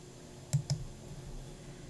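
Two quick, close mouse clicks in succession while pressing a submit button, sharp and dry against a quiet room hum.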